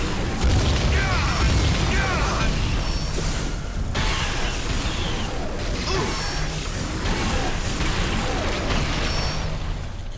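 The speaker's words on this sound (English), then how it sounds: "Bugs exploding out of the ceiling." Bugs bursting out of a ceiling in the Star Trek: Elite Force 2 video game, a loud dense barrage of crashes, booms and crackling debris with mechanical clatter, sustained throughout.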